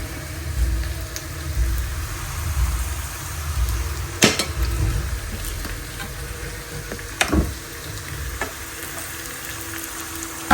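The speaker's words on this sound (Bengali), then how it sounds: "পেঁয়াজ দিয়ে ভুনা করছি" Fish and onions frying together in a pan at home: a low, steady sizzle with occasional bubbling, broken by two sharp scraping clacks of a spatula against the pan, no speech.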